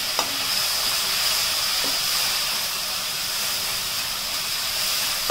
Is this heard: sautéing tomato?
yes